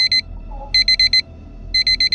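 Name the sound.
alarm ringing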